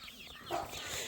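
Meat chickens kept free range and fed organically cluck softly at a little distance, a short burst of bird calls over an outdoor background.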